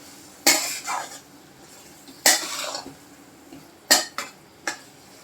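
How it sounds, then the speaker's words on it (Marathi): Eggplant bharit being stirred in a pan after uncovering: several sharp clinks and scrapes of a utensil against the pan in bursts, with a faint sizzle between them, close and fairly clear, no talk. "पण एकदा उघडून घेऊया आणि जरा एकदा हलवून घेऊया"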